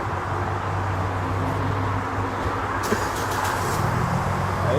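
Chrysler 300 Hemi V8 with a muffler delete, idling with a deep, steady exhaust rumble close by, and the engine note lifting slightly near the end.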